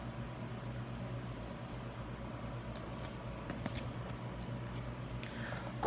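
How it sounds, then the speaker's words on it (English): A clothes dryer spins a load of overalls, giving a steady, even mechanical hum with a constant low drone and faint tonal whine that holds without change for the whole stretch, with no talking. "He unbuttoned Corduroy's shoulder straps and put his overalls in the dryer"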